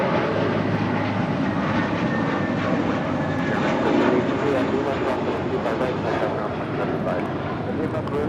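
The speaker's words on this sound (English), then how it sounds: "This is American Airlines 274 departing to JFK on an A321." An American Airlines A321 jet departs Los Angeles International Airport with a broad, sustained engine roar that stays steady throughout, heard from a distance with faint radio chatter mixed in.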